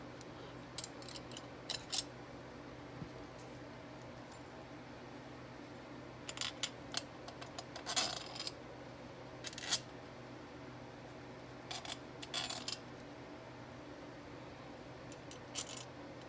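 Screws being driven into a Quadrajet carburetor during assembly: faint, scattered metallic clicks and small ticks in short clusters over a quiet, steady background hum.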